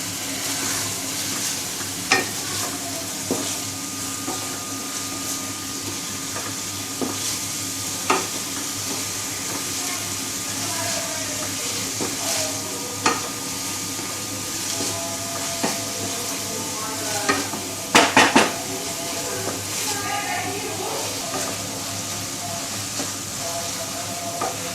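Vegetables and black pepper sizzle steadily in a hot pan for egg fried rice, with periodic scraping strokes of a spatula stirring through them and a brief clatter of utensil knocks near the end.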